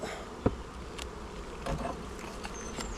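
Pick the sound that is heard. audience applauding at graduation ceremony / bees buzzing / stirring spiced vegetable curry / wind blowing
bees buzzing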